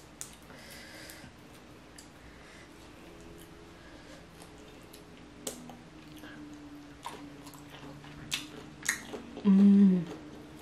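Chewing through king crab legs and seafood boil with shrimp, snow crab and crawfish: soft, close wet smacking and squishing with scattered clicks and shell cracks over a quiet background, ending in a louder brief burst.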